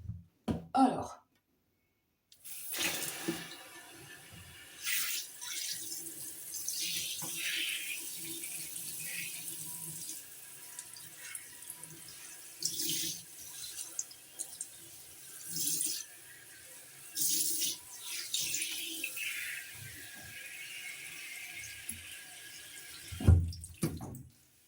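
Tap water runs steadily into a sink or basin while hair is being rinsed, a continuous close hiss with brief interruptions and occasional splashes; a short throat clearing and faint vocal sounds come through near the start and end.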